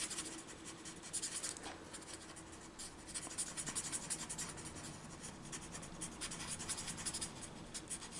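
A paper tortillon lightly blends Derwent pastel pencil colour into paper, making soft, continuous scratchy rubbing strokes with a quick, irregular rhythm, close and quiet with no talking.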